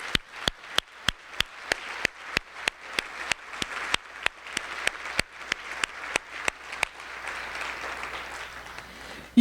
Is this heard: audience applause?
yes